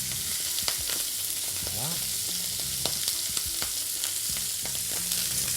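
Lamb sweetbreads fry in butter in a pan, giving a steady close sizzle with a few utensil taps and scrapes, briefly spoken over once.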